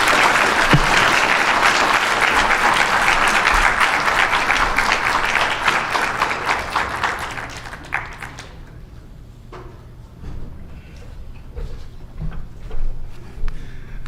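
Audience applause for the mayor at a public hearing on a community safety plan, a loud sustained crowd ovation that fades after about eight seconds into scattered claps and room noise.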